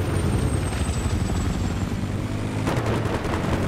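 A helicopter in the video game Battlefield 3 roars loudly and steadily with a dense rotor and engine wash. Bursts of gunfire crackle near the end, and no one speaks.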